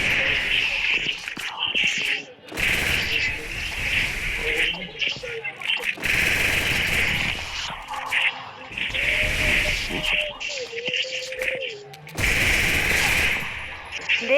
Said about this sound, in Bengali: দাঁড়ান আপনাদেরকে একটা ডেজার্ট ইগলের হেডশটটা দেখাই